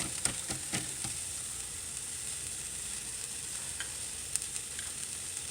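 Vegetables with Alfredo sauce sizzle steadily in a hot pan while a utensil stirs them, scraping in a few quick close clicks over a constant hiss.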